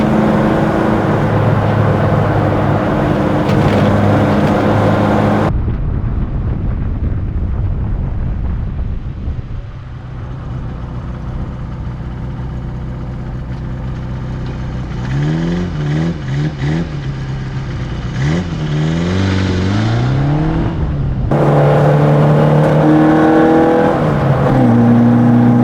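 A Mini Cooper 2.0 engine revs loudly up close, rising and falling through hard acceleration. There is a lull partway through, then the engine surges again through several rising gear pulls, with no one speaking.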